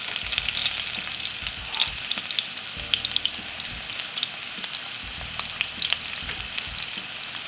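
White onion frying in a pan for a salt fish fry-up, giving a continuous bright crackling sizzle with small pops and stirring scrapes, close and steady throughout.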